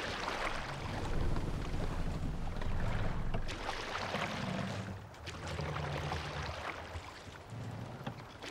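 Oars pull a longship through the water in Assassin's Creed Valhalla, with rhythmic surging splashes and swells of water under steady wind noise, slowly repeating strokes without voices.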